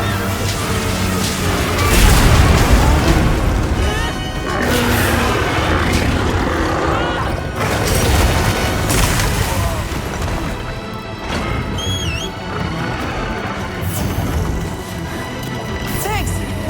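A bomb detonates in Monster Hunter Wilds, setting off loud crashing booms amid dense, chaotic game combat noise, with bursts of heavy impacts repeating over the stretch.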